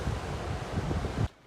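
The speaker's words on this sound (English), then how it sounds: "Pretty breezy today." Breezy wind gusts across a beach at Wellfleet, Cape Cod, a steady loud rush of air buffeting the microphone that cuts off abruptly near the end.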